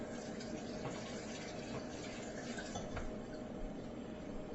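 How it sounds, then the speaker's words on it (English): Tap water runs steadily over hands being washed at a kitchen sink, a continuous close splashing wash with faint clinks of dishes in the background. "Wash my hands."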